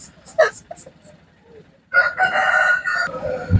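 A country rooster at a poultry market crows loudly and close, one long drawn-out call after some softer clucks and rustling.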